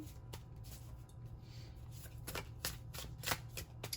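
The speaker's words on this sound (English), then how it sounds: "Let's just go ahead and shuffle up the deck a little bit." Cards riffle and flutter in quick repeated bursts, close and fairly soft, over a low steady hum.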